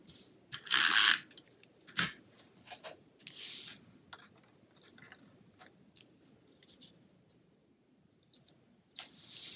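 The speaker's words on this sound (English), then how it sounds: "I'm going to take my snail adhesive, and we're going to put down our Very Vanilla." A snail adhesive tape runner is run across cardstock in short ratcheting, clicking strokes, a few close bursts separated by quiet gaps.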